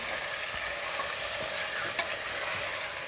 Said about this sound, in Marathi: आता आपण त्यामध्ये मटण घालूया। आणि मटण चांगलं परतून घ्यायचंय।